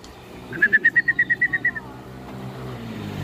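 A racing pigeon returns to its loft during a summer race, giving a rapid run of about ten sharp, even-spaced call-like pulses up close, then fading into quiet low rumble.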